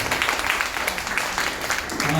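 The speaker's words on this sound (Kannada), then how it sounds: "ಮತ್ತೊಮ್ಮೆ ಅವನಿಗೆ ಚಪ್ಪಾಳೆ" Audience applause for a new student performer after a music recital, a steady mass of claps sustained over the whole moment at moderate level.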